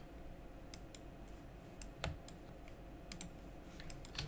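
Typing on a computer keyboard during 3D modeling work, a few faint scattered key clicks at uneven intervals over quiet room noise.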